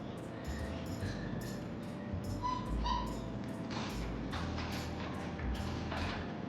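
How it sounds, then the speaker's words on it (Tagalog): A dog barks in short yips with some whimpering, repeated in bursts over a steady background hum, close by in a home setting during a family visit. "Takot sa aso, kawawa."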